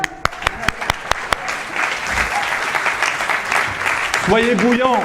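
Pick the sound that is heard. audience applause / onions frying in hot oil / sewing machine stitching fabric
audience applause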